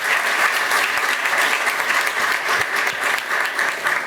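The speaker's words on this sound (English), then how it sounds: "A big round of applause for Speaker Nancy Pelosi." An audience at a Library of Congress ceremony for Mahatma Gandhi's 150th birth anniversary gives Speaker Nancy Pelosi a round of applause, with continuous, full clapping throughout.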